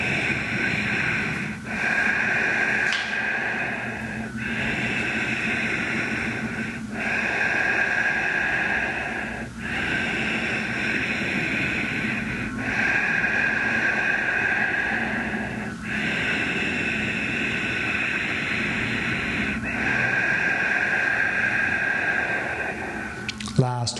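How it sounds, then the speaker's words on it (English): Deep yoga breathing during a class, long slow inhales and exhales repeating in an even rhythm of about one breath every three seconds, close and steady with a soft hiss. "let your body expand naturally on the inhale and close on the exhale"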